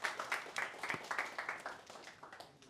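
A small audience at a hardware hacking conference claps for the presenters, steady scattered handclaps that start fairly strong and gradually thin and fade, with no talk over them.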